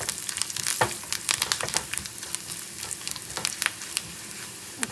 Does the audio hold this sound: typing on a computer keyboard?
no